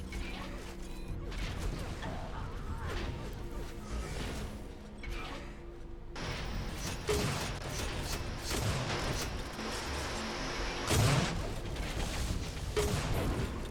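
Gunfire from the Amp sniper rifle in an Unreal Tournament competitive match: dense, continuous game action with repeated sharp shots, whooshes and crashing impacts, loud and layered with no quiet gaps.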